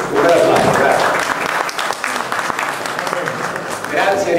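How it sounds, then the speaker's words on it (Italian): Audience applause at a provincial ceremony, a dense, steady wash of many hands clapping at close range that carries through the whole stretch and swells again near the end. "E al Presidente, un bel applauso, grazie."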